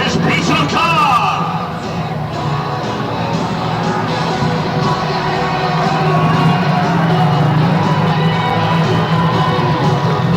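A speedway crowd at a Monarchs versus Glasgow meeting cheers and shouts steadily for a heat winner, loud and continuous throughout, with children's yells and whoops mixed in.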